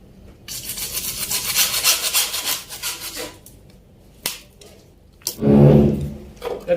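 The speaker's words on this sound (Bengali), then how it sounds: "কেটে দিব।" Cutting and rasping during installation of an electrical distribution board, with a rough scraping stretch followed by a few sharp clicks and a louder lower rasp near the end, close by and without talk.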